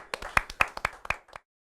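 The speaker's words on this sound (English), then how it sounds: "Clap for Jake." A brief scattering of sharp hand claps from an audience cheering a performer, about ten quick claps in an uneven rhythm that stop abruptly after a second and a half.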